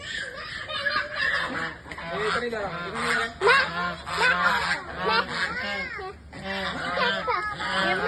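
A flock of geese honks noisily nearby, overlapping calls rising and falling in a steady chorus for several seconds, with brief lulls.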